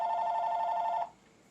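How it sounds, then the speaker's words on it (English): An electronic telephone ringer trills steadily and loudly for about a second, then cuts off abruptly, leaving quiet room tone with no talk. "Sorry about the phone ringing."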